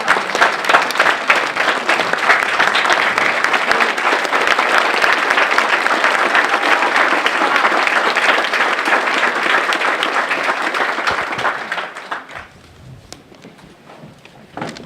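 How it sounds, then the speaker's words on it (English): Rally crowd at a February 2019 school funding event gives a long, dense round of applause that holds steady for about twelve seconds, then drops off to a quiet murmur. "Stand up and give her a round of applause."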